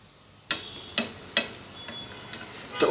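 Taro fritters (kochur bora) frying in oil, with a low sizzle broken by a few sharp clicks and taps of a utensil against the pan, spaced a moment apart.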